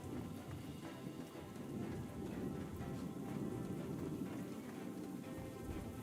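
Steady rain pours down with rumbling thunder in the video game Outward 2, a dense continuous wash of downpour filling the scene with no talk.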